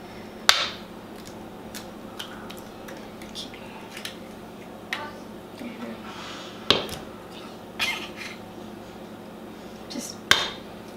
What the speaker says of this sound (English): we're gonna add our 5 eggs.